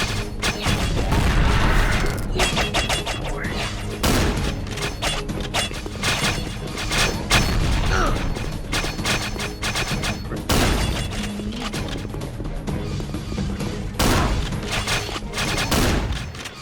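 Rapid gunfire bursts and heavy booms from a hectic video game fight, loud and dense throughout with brief gaps between volleys.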